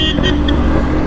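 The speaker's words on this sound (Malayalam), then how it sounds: "ഓ, ബാക്കിൽ ലോറി ഉണ്ടായിരുന്നു." A lorry passes behind a Yamaha RX100 motorbike on the road, a loud, dense engine roar filling the moment with a brief horn-like tone in it.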